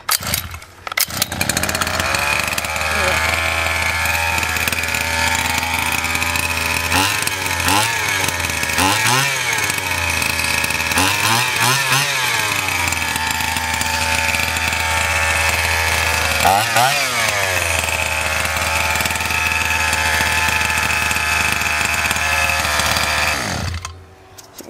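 A petrol Baja RC car engine runs steadily after a cold start with the choke on, a loud, raspy two-stroke buzz that dips and blips several times before cutting off at the end.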